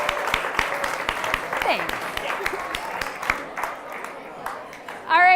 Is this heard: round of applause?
yes